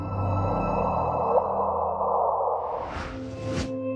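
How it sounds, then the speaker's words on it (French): Sonified gravitational wave from two black holes colliding and merging into one giant black hole: a dense humming tone gives way to rising whooshing sweeps and a sharp upward chirp near the end, heard alone without voices. "Et voilà le bruit d'une onde gravitationnelle lorsque deux trous noirs entrent en collision et fusionnent en un trou"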